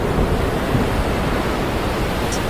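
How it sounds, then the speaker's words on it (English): Huge storm waves crash against a boat at sea, heard as a steady, loud roar of surf and wind noise with no talking. "Huge waves began to crash towards their boat."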